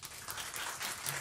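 Faint, steady applause from a concert audience, a soft broadband patter that holds evenly for about a second with no voices over it.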